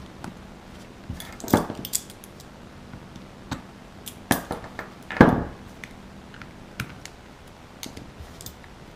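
A knife prying apart the parts of a spinning reel during maintenance, giving scattered metallic clicks and a few sharper clacks and snaps at irregular intervals, close by against quiet background.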